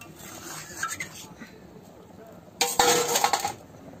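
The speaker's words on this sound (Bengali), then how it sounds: "আর ধোকা ভেজে রাখা ধোকাগুলো এবার এর মধ্যে দিয়ে দিলাম, দিয়ে একটু নাড়াচাড়া করে নেব" Fried dhoka lentil cakes going into a pot of curry and being stirred, with soft spoon scrapes and clinks against the pot, then a louder burst of metallic clatter and sizzling toward the end.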